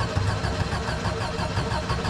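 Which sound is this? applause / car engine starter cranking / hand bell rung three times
car engine starter cranking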